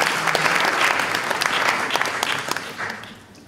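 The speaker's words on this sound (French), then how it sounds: "nous pouvons l'applaudir également" An audience at a French book prize ceremony applauds an author present in the hall, with full clapping that holds strong and then tapers off toward the end.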